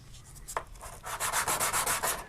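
A wide ring band about half an inch across is sanded by hand in quick, repeated scratchy rubbing strokes, close and clear with no talking.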